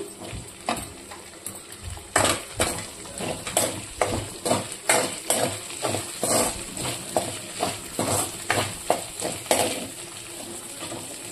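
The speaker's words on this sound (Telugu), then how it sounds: "కొంచెం వేగనిద్దాము. బెండకాయ వేగిపోయింది కదండి" Okra (bendakai) fries in a pan, with a steady sizzle broken by a quick run of repeated scraping strokes from a spatula, close and moderately loud.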